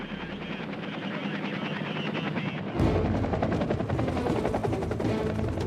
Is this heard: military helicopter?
yes